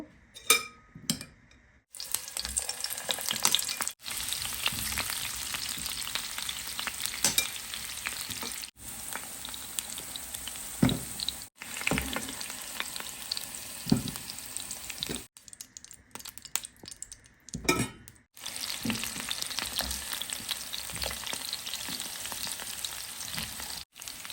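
Oil sizzles and crackles as potatoes fry in a pan, with stirring scrapes and brief pauses where the sizzle drops away, then resumes.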